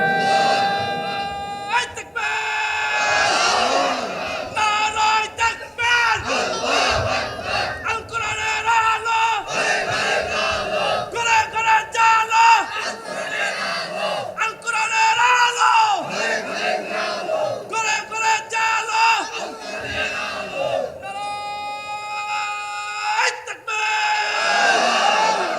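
A large crowd at an Islamic sermon gathering in Faridpur shouts the takbir in loud, repeated unison chants, roaring waves of voices rising and falling in rhythm, with a leading voice calling between the responses.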